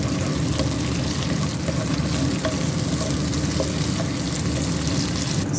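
Onions and tomato paste sizzle loudly and continuously in a pan while being stirred, a dense, close frying hiss with occasional scraping.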